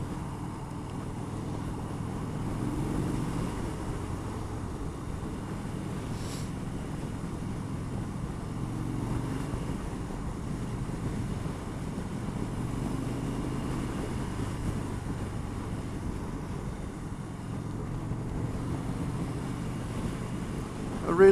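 Steady, low wind rumble buffets the microphone throughout a Harley-Davidson Dyna Lowrider test ride, masking the engine underneath.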